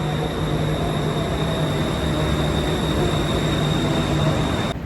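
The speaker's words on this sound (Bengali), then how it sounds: "আমরা চলে আসছি চংনং C station BTS sky train." A BTS Skytrain at Chong Nonsi station in Bangkok gives a steady, loud rumble with a low drone and faint high whine, continuous throughout with no talk.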